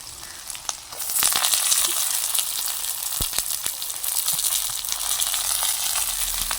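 Shallots, curry leaves and dried fish hit hot oil with a sudden loud sizzle that settles into a steady, close frying hiss, broken by a few sharp stirring knocks, with no voices.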